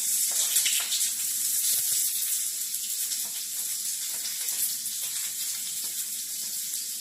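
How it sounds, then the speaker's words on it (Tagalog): Ginger and then onion sizzle steadily in hot oil in a pan for chicken curry, a close, continuous frying hiss with small crackles and no one speaking. "Gigisa muna tayo. Unahin natin ang luya. Then, ang sibuyas."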